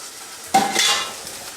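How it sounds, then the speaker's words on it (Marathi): Fried paneer pieces stirred into a capsicum and chilli mixture in a pan, one short scraping stir with a soft sizzle that trails off, close and fairly quiet. "पनीर आणि जी तुमची शिमला मिरची जी पूर्ण मिक्सचर आहे छान असं मिक्स करून घ्या"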